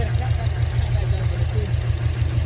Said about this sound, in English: You will rev it one more time for me?